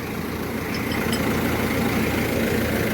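A tractor engine idles steadily and close by, a low rumbling drone that holds even throughout, at a muddy farm site in Multan where a tractor and trolley are stuck and being pulled out with chains.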